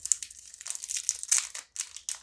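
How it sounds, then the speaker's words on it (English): Thin wax paper crinkles and tears in quick, close, rustling bursts as it is peeled off a vintage 1980s coconut candy bar from a military ration pack. "Very thin wax paper it's wrapped in."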